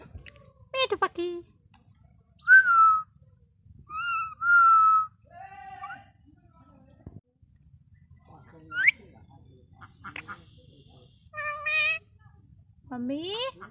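A pet parrot produces a series of short, whistled, meow-like calls separated by pauses, clear and close in a quiet room, the bird imitating a cat.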